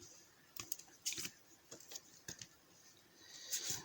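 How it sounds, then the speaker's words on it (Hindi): Tarot cards laid down on a table one after another for a reading, giving a few faint, quick taps and soft slaps with quiet pauses between them. "सबसे पहले मैं कार्ड्स रखता हूँ यहाँ पे"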